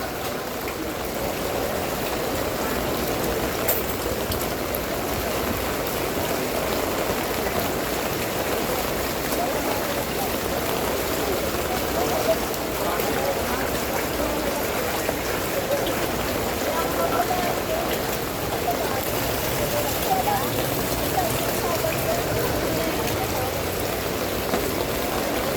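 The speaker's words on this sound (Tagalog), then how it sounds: "Grabe pagkabaha." Steady wash of heavy rain and rushing floodwater during a flood in Olongapo, a continuous dense hiss with no clear pauses, loud and close throughout.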